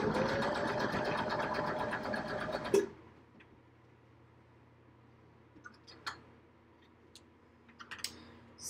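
A sewing machine runs steadily for close to three seconds during free motion stitching, then stops, leaving a quiet room with a few faint clicks and small handling sounds.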